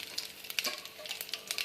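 Curry leaves sizzle and pop in hot tempering oil with cumin and dried red chillies for avarekalu sambar, a close, quiet crackle with bright spitting bursts.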